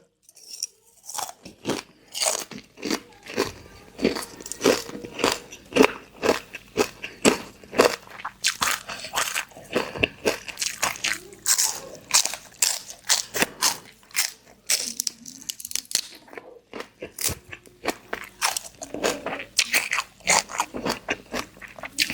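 Crispy fried angel-wing jellyfish being bitten and crunched up close, a long run of dense, sharp crunches and crackles with steady chewing, eaten alone without talk.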